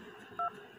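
A mobile phone keypad gives one short, clear DTMF beep while a number is being dialed, heard alone over faint background noise.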